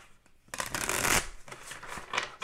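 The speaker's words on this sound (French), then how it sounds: "On va tirer quelques cartes avec celui-là." Oracle cards being shuffled and drawn by hand, a close papery riffle that swells into a dense burst, then lighter slides and flicks, with no talking.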